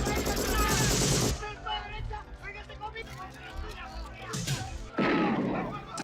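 Gunfire from the 1980s action film Commando: loud, dense volleys of automatic shots at the start and again near the end, with a quieter stretch of voices and battle noise between them.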